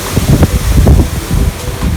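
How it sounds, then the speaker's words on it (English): Strong wind buffets the microphone outdoors before a thunderstorm, during alloy rim cleaning, in gusty, rumbling bursts, a loud low roar that swells and dips throughout. "I hope you guys can hear because it's so windy out here"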